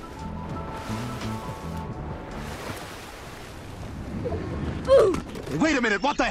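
Water rushes steadily as a character swims down a waterfall in a video game, with a louder splash near the end as it lands on a build and churning water after.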